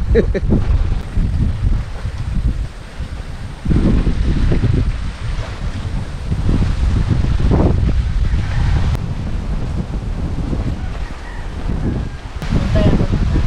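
Steady wind rumbles and buffets the microphone outdoors at a campsite in Cavinti, Laguna, with gusts rising and falling throughout.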